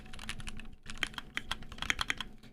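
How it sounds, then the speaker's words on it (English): Fingers type rapidly on a computer keyboard, a dense run of close, crisp key clicks with a brief pause partway through, the keystrokes growing busier and sharper toward the end. "I start typing something actually, and then I just give up and start gibberish."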